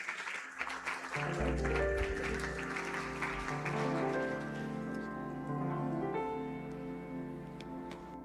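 A church congregation claps along, a soft, steady spatter of hands blended with organ-like sustained music tones and a low rumble, faint and somewhat distant throughout.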